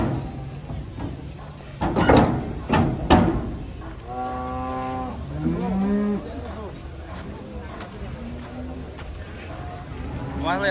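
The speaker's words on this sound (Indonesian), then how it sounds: "Wah, kedatangan sapi galak, guys. Bertanduk banteng." Aggressive horned cattle being unloaded from a truck, with a loud drawn-out moo and several shorter moos close by, plus clanking metal thumps and people talking around them.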